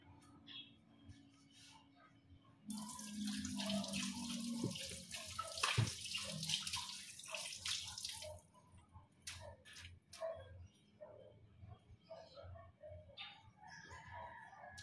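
Tilapia washed under running water in a kitchen: a steady close stream of tap water splashes for several seconds, then gives way to intermittent splashing and handling noises, with a rooster crowing in the background.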